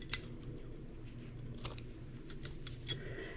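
Scissors snip a ribbon bow while making shell angels, giving a few short, sharp metallic clicks and snips close by over a quiet, low room hum.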